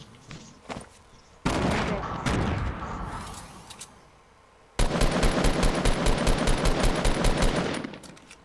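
Gunfire in the Fortnite video game comes up close and loud: a few scattered shots, a long roaring burst, then a rapid, evenly paced automatic volley lasting several seconds, with faint voices underneath.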